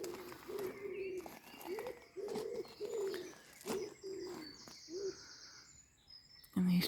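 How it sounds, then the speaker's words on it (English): Wood pigeons coo repeatedly in garden trees on an early May morning at an English cottage garden, rhythmic soft phrases close by with smaller birds chirping around them. "In these trees, we've got lots of wood pigeons."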